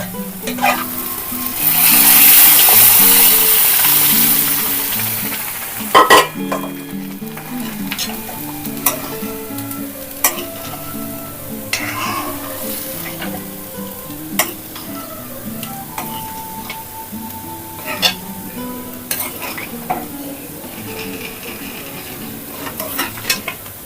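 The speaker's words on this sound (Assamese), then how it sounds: "এতিয়া মই দাইলখিনি দি দিম।" Lentils hitting hot oil set off a loud hissing sizzle that settles into a steady frying crackle, with a spoon repeatedly clinking and scraping the pan as it stirs.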